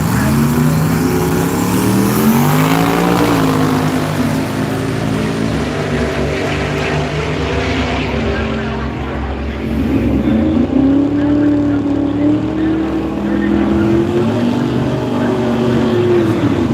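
A drag racing car in the power adder class roars loud and close, its engine note droning steadily and rising and falling in pitch for the whole stretch, with no voices over it.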